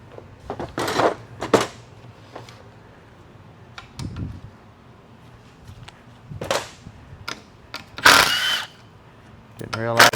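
Power tool zips out transmission pan bolts in several short whirring bursts separated by pauses, close by, with someone talking between them.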